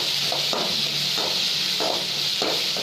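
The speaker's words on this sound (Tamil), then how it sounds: "1 கப் வெங்காயம் நல்லா போட்டு நல்லா வதங்க விடணும்" Sliced onions fry in oil in a pan for masala sundal, a steady broad sizzle with faint periodic stirring scrapes, close and even throughout, no talk.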